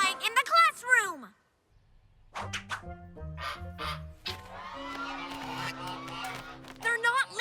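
Cartoon birds in a children's animated train show give honky, quacking goose-like calls in short bursts. The calls mix with music and with excited character voices shouting over them.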